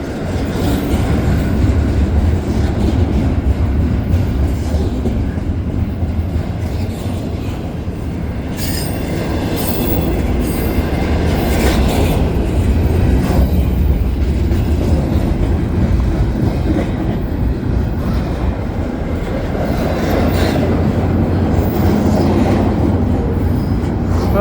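Slow CPKC intermodal freight train with ES44 locomotives and a DPU passes close up at Dorval on a winter night, a loud sustained rumble of rolling cars with recurring wheel squeal and clattering, continuous throughout with no voices.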